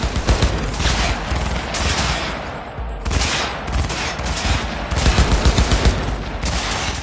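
Sustained gunfire in the Cyberpunk 2077 video game, dense overlapping bursts of automatic and single shots, loud and continuous throughout with short lulls.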